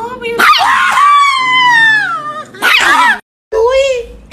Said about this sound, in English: This is a crazy dog.